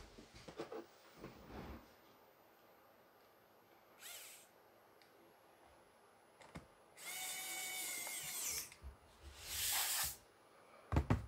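Screws being driven back into the case of an Apple MacBook Pro during a hard drive upgrade, heard as several short bursts of a small power driver whirring, separated by quiet gaps and a few faint clicks.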